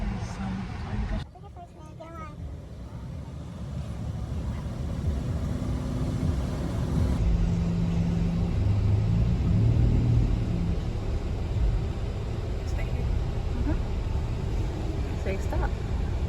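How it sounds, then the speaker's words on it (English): An automatic car wash runs around a car parked inside, with steady rumbling and whooshing spray and brush noise that builds and swells, heard from within the vehicle while people talk now and then. "So relaxing when you go to the car wash"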